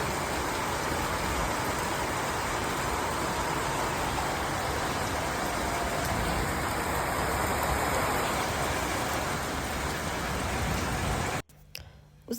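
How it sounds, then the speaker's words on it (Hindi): Heavy rain pours steadily in a dense, continuous hiss at close range for most of the stretch, then cuts off abruptly near the end, with no talk over it. "और यहाँ हो रही है बारिश।"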